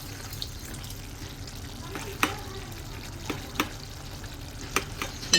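Bottle gourd and tomato curry simmering and frying in a pan, a steady low sizzle and bubbling with a few sharp clicks and stirring knocks, close and continuous, no talk.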